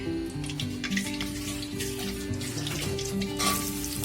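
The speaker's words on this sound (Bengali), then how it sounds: "আমি শুটকি ভিজাতে দিয়েছি ধুয়ে নিব" Running tap water splashes steadily as dried Bombay duck fish is rinsed under it, partly masked by a tuneful melody playing throughout.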